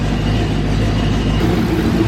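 A stock Ford 302 V8 in a car idling on a dyno, a loud, steady low rumble with an even throbbing pulse close by, no talk.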